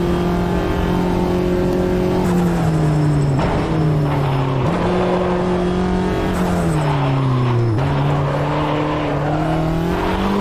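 Mini race car lapping in Assetto Corsa sim racing, a loud steady engine drone that drops in pitch at each upshift and braking, with tire squeal through corners, continuous and up close.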